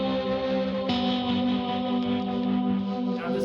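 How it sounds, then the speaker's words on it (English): Chords are plucked slowly on a guitar run through tremolo, delay and a big reverb, giving a sustained, shimmering wash of tones that rings on evenly. "Vibrato, I've got some tremolo going, still got that delay, and then I'm turning on more of the bigger reverb"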